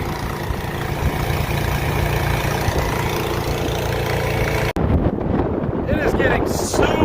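Strong wind blowing across an open farm field during corn planting, a loud constant rushing roar buffeting the microphone, broken by a short gap before the gusting resumes.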